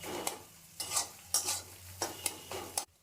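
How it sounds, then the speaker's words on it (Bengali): A spatula scrapes and chops an egg frying in a pan, about six rhythmic scraping strokes over a soft sizzle, ending abruptly. "ডিমটা এরকম খুন্তি দিয়ে ছোট ছোট করে নেবে।"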